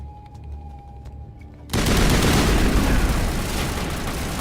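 Turrets open fire in a 2007 space RPG video game, a sudden loud and sustained barrage of gunfire and blasts that cuts in after a quiet lead-in and keeps roaring without a break.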